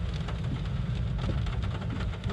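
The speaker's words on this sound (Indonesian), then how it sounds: "Hujan masih lumayan, nggak terlalu deras tapi nggak gerimis." Moderately heavy rain falls steadily at a city intersection in Meulaboh, Aceh, with a continuous broadband hiss over a low rumble and no voices.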